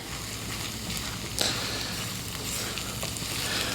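Scrambled egg mixture stir-fried in about 1.5 tablespoons of oil in a pan, giving a steady broadband sizzle with a brief louder scrape of stirring partway through.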